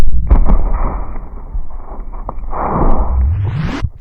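A firework bursts with a sharp bang, followed by a few seconds of loud hissing, crackling noise that ends in a rising whoosh.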